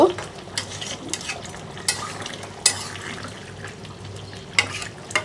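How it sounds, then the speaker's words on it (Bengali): A spoon stirs mutton and potato curry in a pot after black pepper powder goes in, sharp clinks and scrapes recurring every second or so over a soft bubbling, wet background. "দিয়ে একটু নেড়ে মিশিয়ে দিয়ে তারপরে একটু হালকা জাল দিয়ে ঢেকে রেখে যাব"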